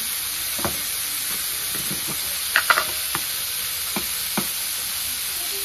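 Bitter gourd fries in a pan under a constant sizzling hiss, with several scattered taps and scrapes of a spoon stirring it, closely heard and without talk.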